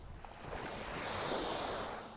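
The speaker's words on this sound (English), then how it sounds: "You may hear the sound of water lapping in a nearby waterway." Soft, steady water lapping along a nearby waterway outdoors, a broad continuous wash that swells slightly and then eases, with no voices.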